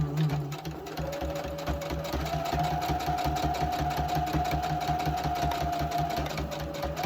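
A sewing machine runs steadily for about seven seconds with a fast, even mechanical chatter and motor hum, close and alone with no talk.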